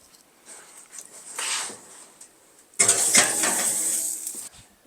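A plant-based mac and cheese dish being slid into a home oven, with clinking of a dish on the rack and a rush of metallic scraping and rattling as the oven door moves, close and fairly loud.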